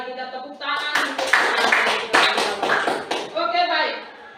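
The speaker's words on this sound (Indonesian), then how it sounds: "Kita tepuk tangan untuk" A group claps in a burst of applause, mixed with voices talking and calling out over it.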